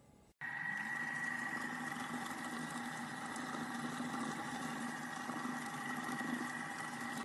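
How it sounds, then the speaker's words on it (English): A Bimby Thermomix kitchen machine beating butter with sugar starts with a click and then runs steadily, a constant motor whir with a faint churning of the mixture, alone. "I will use the bimbi to beat the butter with the sugar for 10-15 minutes, until the mixture gets fluffy"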